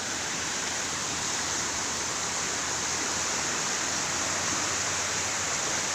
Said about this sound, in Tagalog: Yan, ito yung ilog.